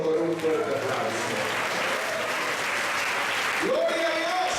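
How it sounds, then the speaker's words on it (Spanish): Strong applause from a congregation at a church sermon, a continuous wash of clapping that swells and holds, with a voice shouting over its start and end. "adórelo con un fuerte aplauso"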